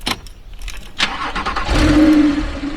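A Porsche 997 911 GTS engine cranks and fires into a loud, steady idle from close range, with a low, rising rumble building after the start.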